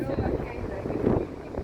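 Steady outdoor wind buffeting a microphone, a continuous low rumble that swells and eases, loud and close.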